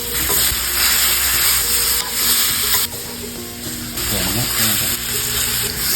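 Pork stir-frying in a pan for a northern Thai style dish, a loud continuous sizzle with scraping stirs.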